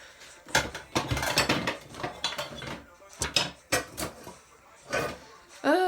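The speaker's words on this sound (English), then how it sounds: "When you're looking for a wooden spoon and you can't find which one you're looking for." Kitchen utensils clatter and clink in bursts as a drawer or pot of cooking tools is rummaged through in search of a wooden spoon, close and fairly loud, with a voice briefly heard near the end.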